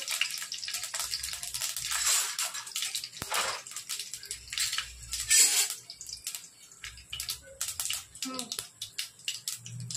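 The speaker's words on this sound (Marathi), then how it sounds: "मोहरी टाकून घेऊया. ती सुकी मिरची लाल." Mustard seeds and dried red chillies sizzle and crackle in hot oil in a pan while making rava idli. The hiss is close and bursty, and a person talks intermittently over it.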